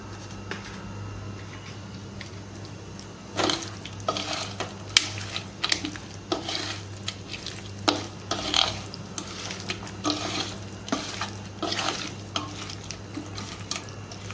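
Ginger garlic paste sizzles in a hot pan while a spoon stirs and scrapes it, giving a run of short metallic clinks and scrapes over a steady low hum, close by and fairly quiet.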